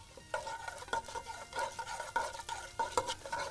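Urad and chana dal, added to popped mustard seeds, are stir-fried in a pan with rhythmic scraping and clinking of a spoon over a soft sizzle. The sounds are close and repeat steadily, with no talk.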